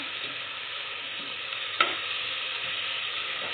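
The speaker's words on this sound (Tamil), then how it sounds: "கருவேப்பிலை சேர்த்து எல்லாத்தோடையும் சேர்த்து நல்லா வதக்கிக்கலாம்." Curry leaves, ginger-garlic paste and green chillies sauté in hot oil for a tomato rice dish, a steady close sizzle with a single sharp scrape of the spoon partway through.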